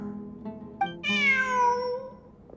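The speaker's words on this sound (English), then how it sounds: "Look! A cat!" Cat in Genshin Impact gives one long, clear, rising-then-falling meow, close and prominent, after a quieter short chirp and a low background hum.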